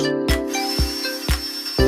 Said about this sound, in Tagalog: Butasan po natin ng barena yung plywood para makapasok po yung dulo ng lagari.